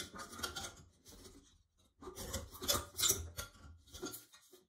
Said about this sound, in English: Release the retaining springs and take out the trim.